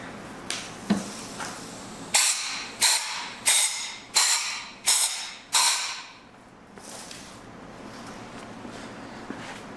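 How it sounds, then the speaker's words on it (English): Compressed air blows debris out of the head stud holes on a Subaru engine block, six short, loud hissing blasts in steady succession, each cutting off sharply, followed by a quieter, steady background hiss. "you want to blow out the holes where the studs go and just make sure all the debris and whatnot is clear from there"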